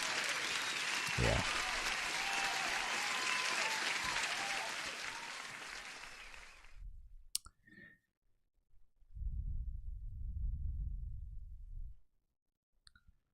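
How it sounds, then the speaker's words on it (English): Live-stream audience applause, dense and steady for about seven seconds, then cutting off abruptly, with a brief single word of speech and a later patch of low rumble. "Huge applause for you, my man."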